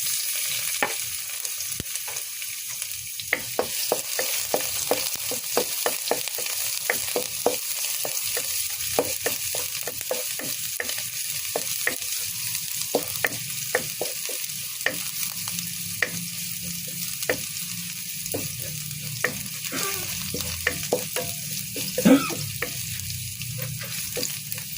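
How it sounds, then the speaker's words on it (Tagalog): Garlic fries in a hot kawali, a continuous close sizzle punctuated by rhythmic spatula clicks and scrapes, alone without any talk. "Init na yung ating kawali. Isa na tayo ng ating bawang."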